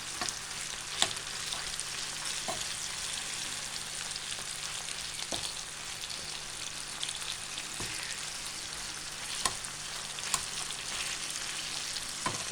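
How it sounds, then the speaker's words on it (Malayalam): Tuna pieces deep-frying in oil for fish pickle give a steady broadband sizzle and crackle throughout, with occasional sharper pops and faint utensil taps; no voices. "അപ്പം നമുക്ക് ഇങ്ങനെ വറുത്ത് കോരിയെടുക്കാം."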